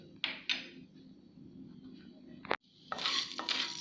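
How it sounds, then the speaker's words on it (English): Urad dal and chana dal dropping into hot oil with soft sizzling, a couple of sharp clinks from a spoon against the pan, then a brighter, louder crackle toward the end; quiet and close. "I'm going to add urad dal, then goes the chana dal."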